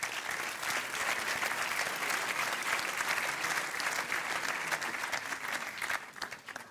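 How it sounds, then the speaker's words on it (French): Sustained, dense applause from an audience at a business award ceremony for a prize winner, loud and steady for several seconds before starting to fade at the end. "on vous remet le prix et on vous applaudit encore très très fort."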